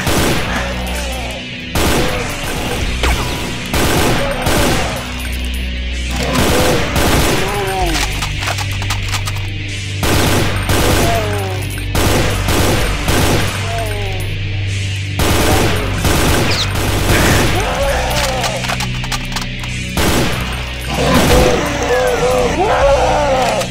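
Rifle gunfire in the video game Brutal Doom 2 comes in rapid bursts and repeated loud shots, mixed with game explosions and creature groans, while a person talks intermittently over the action.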